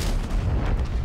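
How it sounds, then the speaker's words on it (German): A tank cannon shot in the World of Tanks video game hits its target with a heavy, booming blast that rumbles loudly through the whole of a brief moment of game audio. "Wow, der Schuss ging sauber rein."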